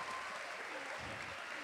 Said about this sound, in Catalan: Un aplaudiment ben fort.